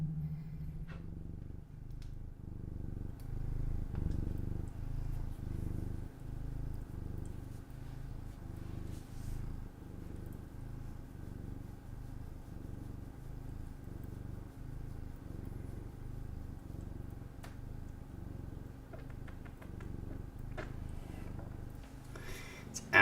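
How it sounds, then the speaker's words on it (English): A soft, continuous low purring rumbles close by, steady and rhythmic, with faint rustling and small handling noises over it. "I'm not sure if y'all can hear him purring or not."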